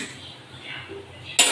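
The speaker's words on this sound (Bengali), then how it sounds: "এবার প্রেসার কুকারটা আটকে দিই।" A pressure cooker holding mutton curry with potatoes has its lid closed, with faint metallic handling and then a sharp clank of metal near the end.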